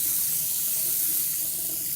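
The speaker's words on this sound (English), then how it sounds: "I'll run cold water, I'll run hot water" Cold and then hot water runs steadily from a bathroom tap during a home inspection in Spain, making an even, continuous hiss and splash that stays close and uninterrupted, with no voices.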